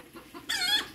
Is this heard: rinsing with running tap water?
no